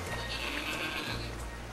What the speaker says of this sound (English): You were expecting a horse, but you got a goat, and no one wants a goat.